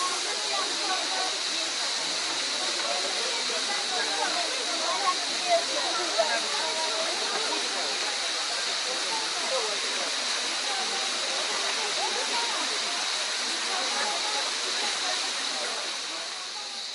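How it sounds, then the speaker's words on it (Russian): Small waterfalls at the Gizli Cennet three-tier falls, a steady broadband rush of falling water with a hissy edge, continuous and fairly loud for the whole stretch, fading slightly at the end. "Вот такие вот водопадики вы видели."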